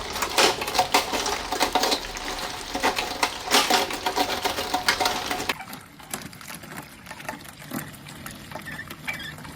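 A hand-cranked crusher works through fresh grapes for homemade white wine, a busy clattering and rattling churn, close and loud at first, then lighter and sparser toward the end.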